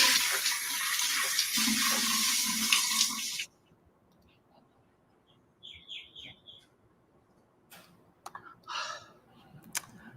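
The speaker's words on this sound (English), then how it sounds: "I'm going to take a shower now. Water feels nice." Shower water runs as a loud, steady broadband hiss for about three seconds, then stops, leaving near silence with faint bird chirps and a few brief splashes or clatters.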